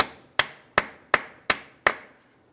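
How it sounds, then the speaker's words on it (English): Hammer and punch strike the center of a front wheel axle on a 2006-2012 Ford Fusion to break the nut free: six sharp metallic blows at an even, steady rhythm, close and loud, with no talking. "Let's continue on with a hammer and punch directly in the center of the axle."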